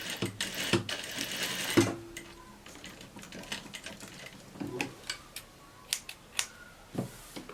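A sewing machine stitches a summer dress in quick bursts of rattling needle action, with clicks and short pauses between runs, heard up close.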